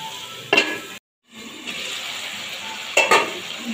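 Taro and prawn curry frying in a pan, a steady close sizzle with two brief clattering bursts as the pan is stirred or the lid handled, broken by a short silence.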